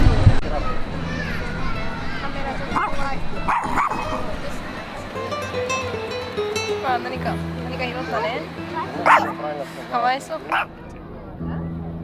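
Several dogs barking and yipping outdoors in Madrid, Spain, short sharp barks scattered among street noise and a background murmur of people talking.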